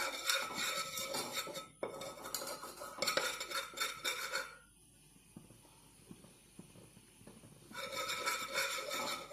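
Egg curry being stirred in a pan: a spoon scrapes and clinks against metal in two busy bursts, then a quieter stretch of soft hiss and light taps before scraping resumes near the end.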